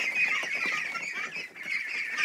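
Ducks in a barn honk and quack in a dense, nasal chorus, several birds calling over each other close by with no pauses.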